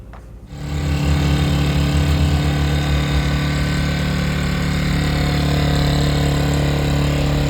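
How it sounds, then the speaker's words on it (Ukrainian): A steady, even engine hum starts after a brief quiet moment and runs continuously at a constant pitch, a small low-power inverter generator idling close by. "взяв собі генератор інверторний, не дуже потужний"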